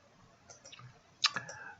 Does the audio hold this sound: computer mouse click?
yes